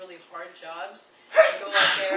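A person sneezes during a Q&A session, giving two sharp bursts of breathy noise that break into a man's speech, close and moderately loud.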